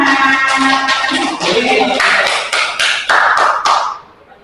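Hands clap for everyone in a classroom or teacher-training session. A run of sharp, close taps spreads into scattered group clapping, with faint speech-like sounds mixed in before it fades out.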